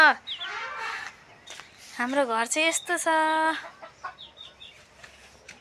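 Chickens cluck and chicks cheep nearby in short bursts while someone talks over them.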